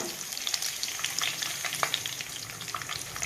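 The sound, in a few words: cashews frying in ghee and oil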